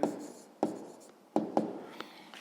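A pen scratches out numbers on paper in a quiet room, with several short, separate strokes starting sharply and trailing off.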